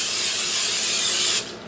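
Nonstick cooking spray hissing onto a stainless steel skillet, a steady close aerosol spray that cuts off abruptly near the end.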